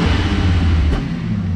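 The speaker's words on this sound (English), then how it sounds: "The exhaust isn't super loud, but it still sounds good, I think." A VR6 turbo wagon's exhaust rumbles deep and moderately loud at idle, with one short blip of throttle partway through, no talking over it.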